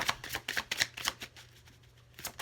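Tarot cards being shuffled by hand in quick bursts of crisp riffling and flicking, close and fairly quiet, with a short lull before a final flurry; no one talks.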